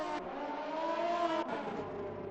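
Formula 1 race car engines at high revs in an Xbox F1 league race at Hungary, a steady whining drone with a gear change midway, heard without speech.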